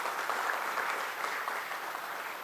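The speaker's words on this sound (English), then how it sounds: "Please welcome with a round of applause." Steady applause from a crowd at a BSE closing bell ceremony, a dense wash of clapping that holds evenly for a couple of seconds without any talking.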